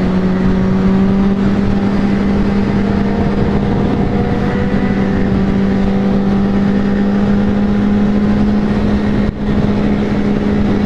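Kawasaki Z800 motorcycle engine running at a steady, loud droning pitch close by, holding nearly constant throughout with no speech.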